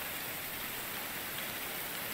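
Steady, even rain in Card Survival: Tropical Island hisses throughout, a dense wash of falling drops with no other sounds.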